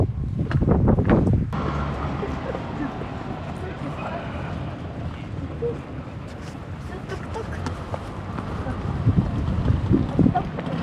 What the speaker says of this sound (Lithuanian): Vėjuota čia.